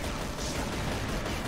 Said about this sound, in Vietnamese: Ôi lại mình bắn súng nè